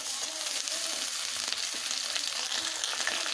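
Chopped potatoes, ridge gourd and pointed gourd fry in hot oil in a pan with a loud, dense, unbroken sizzle and faint stirring scrapes, close up and free of talk.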